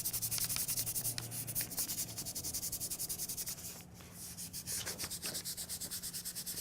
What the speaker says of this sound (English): Go ahead and give it a good rub. I like to use the back of the tape.